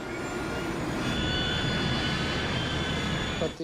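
Left jet engine of an MD-87 airliner that has ingested debris, run up in a reenactment: a loud, sustained roar with a steady whine, near and continuous, then a sudden drop at the end.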